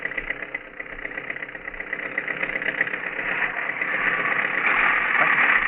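An old car engine strains with a broken piston rod, a steady rough mid-pitched drone that grows gradually louder and harsher, heard on an old, narrow-band recording.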